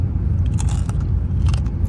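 Repeated crisp bites and crunching chews of crunchy food close to the mic, irregular crackling bursts over a steady low background rumble, with no talking.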